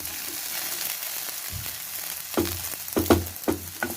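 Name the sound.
okra frying in a pan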